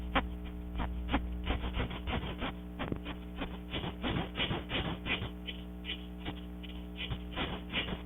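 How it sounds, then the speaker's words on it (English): A reco-reco, a hollow ridged bamboo stick, scraped with a stick in quick, rough strokes that come in an uneven rhythm. The rasping is steady and close over a low constant hum. "a hollow stick of bamboo with ridges cut in it that you scrape with a stick"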